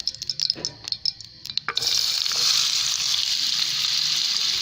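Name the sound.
carrots frying in a little oil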